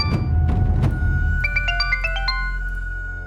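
A telephone ringtone plays loud and close, a short melodic electronic phrase of repeated beeping notes lasting a few seconds during a tense phone exchange in a crime drama.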